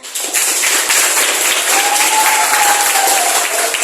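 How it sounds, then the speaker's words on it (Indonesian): Classroom audience applauding together, a dense, steady burst of clapping that rises quickly and holds loud throughout, with a faint whistle-like tone drifting in partway through. "Tepuk tangan semuanya."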